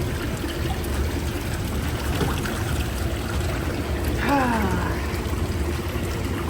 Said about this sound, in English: So we're gonna purge. Looks like we're pouring coffee into it.